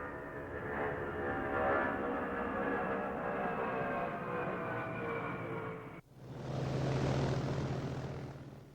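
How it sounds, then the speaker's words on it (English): Huge Lockheed C-5A transport aircraft flying slowly low over an airfield, its jet engines giving a loud sustained whine and roar that cuts off and swells again as it passes, with no talking. "Listen to the whine of those engines."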